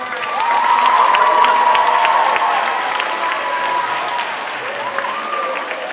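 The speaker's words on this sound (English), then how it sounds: "One more round of applause for Tyler." A school talent show crowd gives loud, sustained applause mixed with cheering and high whoops for a singing act, filling the room throughout.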